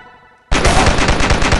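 Rapid automatic gunfire bursts out abruptly and continues loud and dense in the zombie-fighting video game Dead Ahead: Zombie Warfare, following a brief quiet moment.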